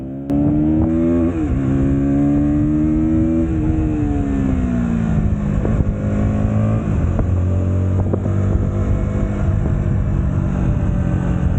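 A KTM Duke 160 motorcycle engine revs hard and climbs through the gears, pitch rising then dropping with each shift, loud and close, with no talking.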